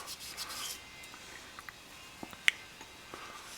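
Green abrasive on the end of a nut driver rubbing a part down to bare metal during work on a 1972 Honda CB750, a faint, soft scuffing close by with a few small sharp ticks and no talking.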